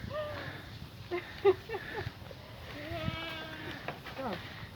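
A herd of sheep or goats at the botanical garden in Asunción bleat several times nearby, some calls overlapping, while people talk close by.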